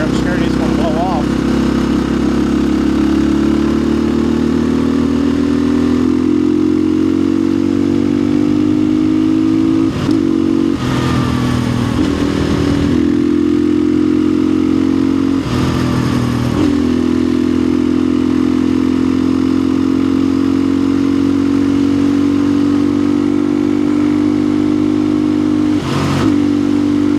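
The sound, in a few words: dirt bike engine revving at about 85% throttle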